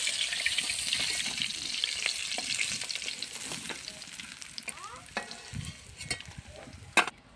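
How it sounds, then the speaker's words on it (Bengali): Fish fry in oil in a wok, giving a faint, steady sizzle, then metal scrapes and a few clinks as the pieces are lifted out, with a sharp knock near the end. "মাছ কিন্তু আমার ভাজা হয়ে গেছে, কড়াই থেকে কিন্তু এবার আমি তুলে নিচ্ছি মাছগুলো।"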